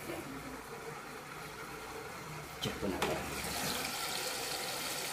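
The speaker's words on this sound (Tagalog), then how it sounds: "mag-load na po ito ng tubig" Water rushes steadily into a top-load washing machine drum holding a large comforter, with a continuous splashing hiss and a brief clunk partway through while a person speaks briefly nearby.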